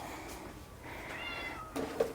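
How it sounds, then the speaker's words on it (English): A quiet, brief cat meow near the end, following faint mewing sounds over a low background hum. "That's the cat. She's going to meow."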